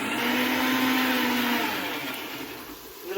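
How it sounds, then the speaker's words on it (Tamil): A mixer grinder runs at full speed, grinding masala and mint into a fine paste for biryani, a loud steady whine close by that slowly eases down near the end, no voices. "ஃபைன் பேஸ்டா அரைக்கிறாங்க இப்போ எல்லாத்தையும்."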